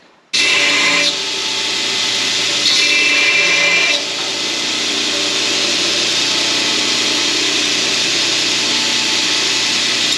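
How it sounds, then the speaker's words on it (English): Angle grinder bevelling the jaws of freshly forged flat jaw tongs, a loud continuous high whine that starts suddenly and holds steady with slight shifts in pitch as the steel is worked, no talking. "I'm also gonna put a nice little bevel on these jaws with the grinder"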